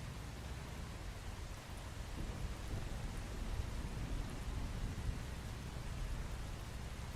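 Rain falling in the survival video game Once Human, a steady soft hiss of downpour with low rumbling underneath, faint and continuous with no talking.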